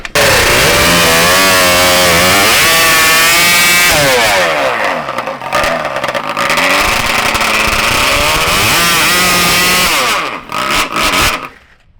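An e-bike doing a burnout with its clutch smoking gives a loud, close, sustained high-revving motor howl that climbs, dips and surges repeatedly before cutting off near the end.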